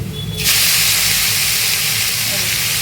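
Fresh fenugreek leaves hit hot oil in a pan with garlic for a restaurant-style curry, bursting into a loud, steady sizzling hiss after a brief quieter start, with faint voice underneath.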